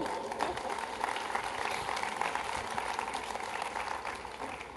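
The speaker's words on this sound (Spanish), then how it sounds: "Cogemos un aplauso para Cogeitor" An audience at a live-streamed event gives a round of applause, a continuous soft wash of many hands clapping at moderate distance, fairly even throughout and fading slightly at the end.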